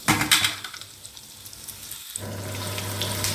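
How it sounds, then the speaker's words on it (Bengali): Potato pieces fried in oil for an alu paneer dish, giving a soft, steady sizzle close by after an opening burst of splashy crackles, with no talk. "প্রথমে আলুটা ভেজে নেব"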